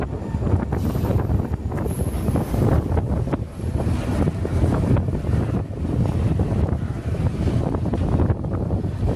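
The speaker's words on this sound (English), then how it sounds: "it's really windy" Strong wind batters the microphone beside a railroad bridge over a canal, producing loud, gusty low roaring that surges and dips throughout.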